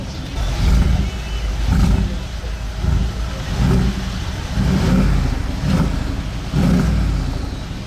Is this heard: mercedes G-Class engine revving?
yes